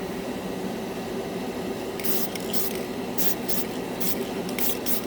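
Krylon chrome spray paint hissing from an aerosol can onto a plastic scale model, several short close bursts in a row over a steady background hum.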